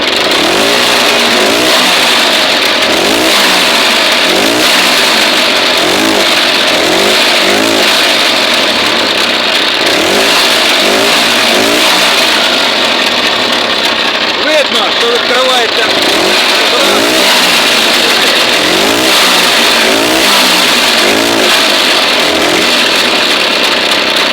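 A carburetor engine fed with gas through a stove gas reducer runs loud and close, revving and surging unevenly in a continuous roar.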